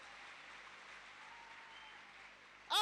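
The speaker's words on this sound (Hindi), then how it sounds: "एक बार तालियां बजा दो तो मुझे अच्छा लगेगा।" An audience clapping, a faint, steady wash of applause from a distance that holds evenly, ending in a sudden brief louder burst.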